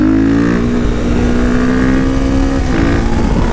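A KTM 450 supermoto motorcycle engine runs loud and close, holding a steady high rev with a strong buzzing drone and a brief dip and pickup in pitch near the end.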